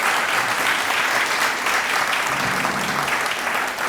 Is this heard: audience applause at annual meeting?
yes